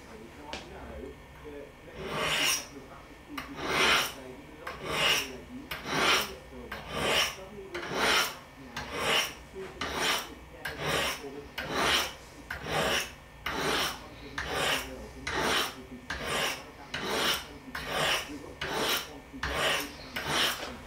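A Henckels Professional paring knife is drawn repeatedly across coarse Lansky ceramic sharpening rods, producing about twenty rhythmic rasping strokes, evenly spaced and close, with no talking.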